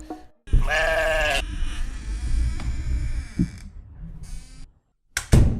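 A sheep bleats loudly and close by, a long wavering cry followed by a second quavering call, with a low rumbling background and a short sharp noise at the end.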